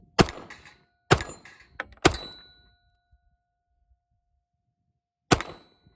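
Colt 1911 pistol fired at a shooting range, heard as four sharp, loud reports spaced irregularly over several seconds, each with a short metallic ring, and silence between the later shots.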